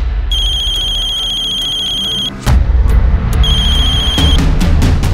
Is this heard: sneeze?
no